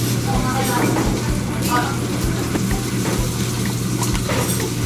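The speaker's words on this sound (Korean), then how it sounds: "아, 이거 칼질에 익숙한데?" A knife chops food in a home kitchen, with a run of sharp taps over a steady low hum and clattering kitchen noise while people talk throughout.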